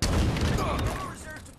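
Dense burst of video-game gunfire in a multiplayer shooter, loud and continuous at first and tapering off over about a second and a half, with a voice under the shots.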